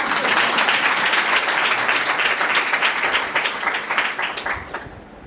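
A congregation claps and applauds during a church worship service, a dense, loud burst of hand claps that carries on steadily before thinning out and fading at the end.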